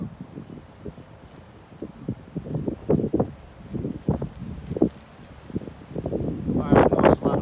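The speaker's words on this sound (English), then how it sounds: "All right, I know it's a lot of wind." Strong gusts buffet the microphone outdoors during kite flying, coming in rumbling bursts throughout, louder toward the end, with a person speaking over the wind.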